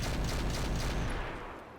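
A mech's cannon fires in the RogueTech BattleTech video game as a loud, rumbling rapid barrage that fills the sound and then tails off into a fading echo.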